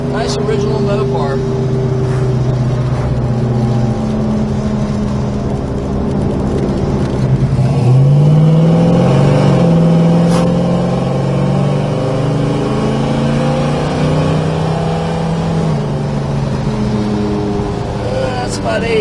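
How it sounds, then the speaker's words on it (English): A 1968 Plymouth GTX muscle car with an original Mopar engine holds a steady, loud drone while accelerating on the road, its pitch sweeping upward midway, with voices talking over the engine throughout. "It's a nice driving car. It has a real nice sound to it."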